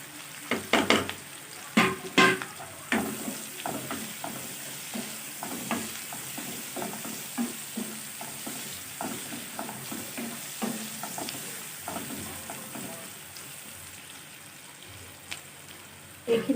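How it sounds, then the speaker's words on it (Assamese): Spices for an Assamese bhangun fish curry frying in a pan, a continuous sizzle broken by repeated scraping stirs and clinks of the spoon, close and fairly loud. "এইখিনি মই 5 মিনিট সময় ভাজি ল'ম।"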